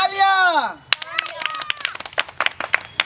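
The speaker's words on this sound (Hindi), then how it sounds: "तो तालियां।" A school audience at a Republic Day (26 January) program bursts into scattered, irregular clapping that builds and continues to the end, after a brief spoken or sung voice at the start.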